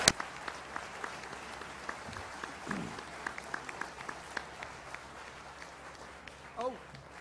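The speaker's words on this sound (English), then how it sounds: "Let's give these gentlemen an incredible round of applause." A debate audience at the 2008 Freedom Fest applauds Christopher Hitchens and Dinesh D'Souza, a faint, distant spatter of clapping with scattered sharper claps and some voices in the room.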